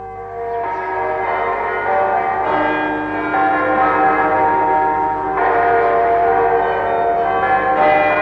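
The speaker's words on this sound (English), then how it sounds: "all the bells of the city announced the sanctity of the day, Sunday" Church bells ring together across Glasgow on a Sunday morning, a dense, sustained wash of overlapping tones with fresh strikes swelling in every few seconds, loud and steady with no voices.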